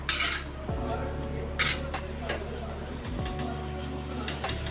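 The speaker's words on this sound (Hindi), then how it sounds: "अच्छे से इसको चला लीजिए। गैस का फ्लेम आप हाई कर लीजिए और इसको अच्छे से भूनिए।" Bottle gourd being stirred and roasted in a pan over a high gas flame, with scattered metal clinks of a spoon against the pan over a steady low background hum.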